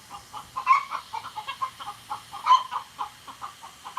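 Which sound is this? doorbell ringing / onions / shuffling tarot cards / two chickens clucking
two chickens clucking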